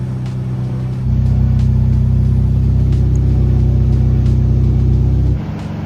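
An Audi S3 engine runs steadily as it warms up during a drivetrain service, a loud, even low hum that steps up in level after a second and holds, then drops back near the end.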